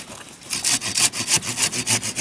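A hand saw cuts through a branch on an apple tree with two trunks, quick rhythmic rasping strokes, about a dozen back-and-forth pulls at close range with no talking.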